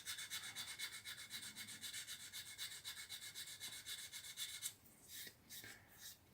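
Steady back-and-forth rasping of sandpaper on a wooden model aircraft, rhythmic strokes close up, then a few slower, separate rubs near the end.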